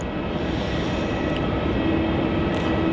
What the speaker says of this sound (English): we will have the Virgin Australia 737 going to Nadi